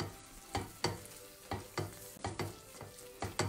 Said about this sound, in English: So I'm just gonna stir it there a little bit.